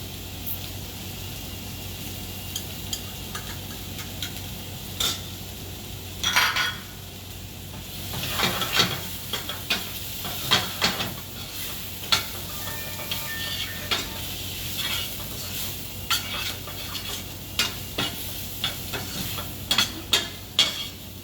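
Food seasoned with turmeric and chili powder sizzles steadily in a pan while a utensil repeatedly scrapes and clinks against the metal, the stirring growing busier and more rhythmic over time.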